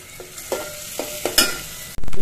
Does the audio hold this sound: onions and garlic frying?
yes